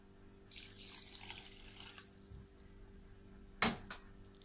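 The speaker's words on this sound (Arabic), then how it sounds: "وبنفس المعيار هنحط المية، كوباية مية" Water from a cup poured into sugar in a pot to make a thick syrup, a soft running splash building after half a second, then a brief louder splash near the end, with no voices.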